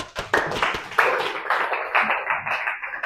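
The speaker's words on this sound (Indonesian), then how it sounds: "aplaus untuk kelompok" Students in a high school classroom clapping for a presenting group, with a brief burst of close, uneven handclaps and a few sharp taps.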